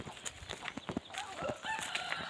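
A rooster crows nearby, with clucking chickens and other farm sounds around it, no one speaking.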